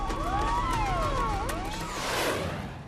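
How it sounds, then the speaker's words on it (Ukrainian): Fire truck sirens wail and sweep up and down in pitch at night, several overlapping tones, fairly distant amid a low rumbling background. "Нічну тишу струшує завивання пожежних авто"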